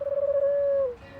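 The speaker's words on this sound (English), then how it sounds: "Except that's a pigeon, but you know," A pigeon gives one steady, sustained coo lasting under a second, close and clear against a quiet background.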